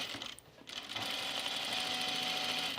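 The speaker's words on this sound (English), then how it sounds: "I'm just stitching down the placket." A sewing machine stitches down the under placket of a blouse, a steady close whirring run that starts after a brief quieter lead-in and holds even to the end, with no talking.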